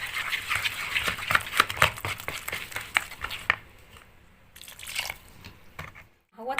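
Flour and water are stirred into a soft garlic bread dough in a bowl, making quick, rhythmic wet slaps and squelches for a few seconds before the stirring slows and goes quieter.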